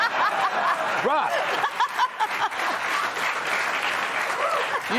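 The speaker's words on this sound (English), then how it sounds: "I'm never going to get better if you clap." Studio audience at a late-night comedy talk show claps and laughs, the applause steady and close throughout with chuckles and some talk mixed in.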